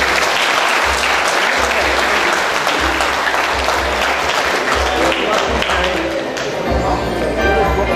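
An audience at the 45th-anniversary ceremony of the ACP gives a sustained round of applause for the founding clubs. Many hands clap loudly and continuously, with scattered individual claps standing out over a low background rumble.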